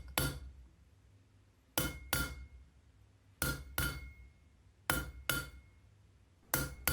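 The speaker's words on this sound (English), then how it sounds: "Using a cut-off hardy to cut off that tail." Sharp metallic hammer blows strike in pairs on steel over a cut-off hardy in an anvil, ringing briefly, with short pauses between each pair of hits.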